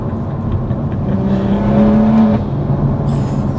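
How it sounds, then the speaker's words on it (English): A stage 3 tuned BMW M140i with a manual gearbox revving hard from inside the cabin, a loud sustained exhaust drone climbing in pitch, then easing off as the next gear goes in. "That exhaust sounds so good as well."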